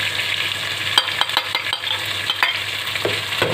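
Ground coriander, cumin and turmeric powder are stirred while they fry in oil in a pan, giving a steady close sizzle broken by scraping strokes of a spoon.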